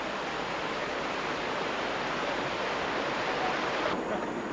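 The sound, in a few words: waterfall in Ireland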